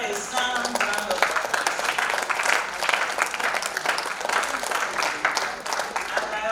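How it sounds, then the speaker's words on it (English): Audience applause at a medical women's association conference in Lagos, a brisk, steady patter of many hands clapping together, moderately loud and continuous throughout the short stretch. "Please give her a sound round of"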